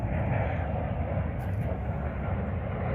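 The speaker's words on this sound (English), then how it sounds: "Here comes another jet." A jet aircraft passing over trees outdoors: a steady, broad roaring rumble that holds throughout at moderate loudness, with no speech.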